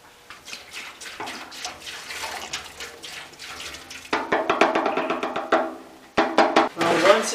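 Water from a quart bottle is poured into the fuel tank of a 1976 Mazda RX-5 Cosmo during a POR-15 tank sealing job. It splashes and gurgles in close, uneven bursts that turn louder and sloshier partway through.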